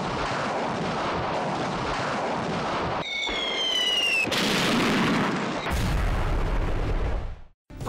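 Artillery fire booms and rumbles loudly in a military setting, with a rising shrill whistle partway through, then a final heavy blast before everything cuts to silence. No one speaks.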